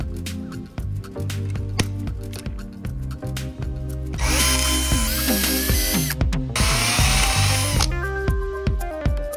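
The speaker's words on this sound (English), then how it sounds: "I make a lot of pilot holes." A power drill bores pilot holes into aluminum extrusion, repeated loud whirring bursts that rise and spin down, with a harsher, higher grinding stretch as the bit cuts through the metal.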